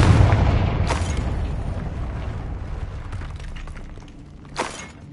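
Confringo blasting spell in Hogwarts Legacy on PlayStation 5: a heavy booming blast rolling into a long rumbling tail, with a sharp crack around one second and another short bright burst near the end.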